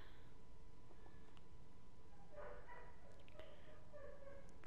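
A dog barks and yips faintly in the background indoors, a few soft, scattered calls over a steady low hum with no one talking.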